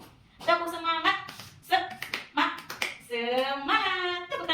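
A classroom of pupils does the 'tepuk semangat' spirit cheer, chanting in unison with a few sharp rhythmic claps between the sung phrases, close and fairly loud.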